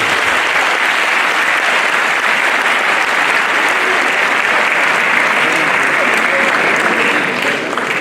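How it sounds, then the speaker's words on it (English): An audience at an inaugural university lecture applauds loudly and steadily, a dense crowd of clapping hands that carries on throughout and thins slightly at the very end. "A clap for the community."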